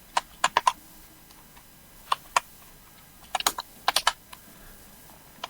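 Keys on a computer keyboard clack while CSS code is typed, in short irregular bursts of a few quick strokes separated by pauses, close and clear with no talking.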